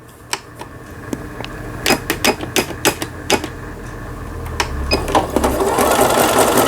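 A Singer 7640 household sewing machine stitches zigzag with a loud, rapid mechanical clatter. Sharp needle knocks stand out at first, then the run settles into a steadier whirring hum.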